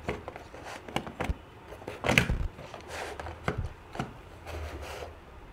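Used, clogged desoldering wick being snipped, probably with scissors, during circuit-board desoldering: a string of quiet, sharp cuts and rubbing clicks, with one louder snip near the middle, close by and without talk.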